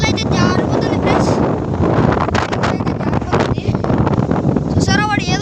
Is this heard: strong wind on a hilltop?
yes